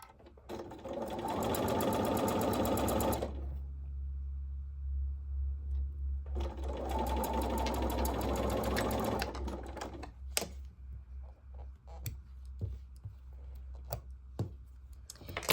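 A sewing machine stitches through fabric in two long steady runs separated by a pause, loud and close, followed by scattered clicks and taps as the machine is handled.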